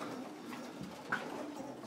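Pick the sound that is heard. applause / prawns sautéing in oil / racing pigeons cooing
racing pigeons cooing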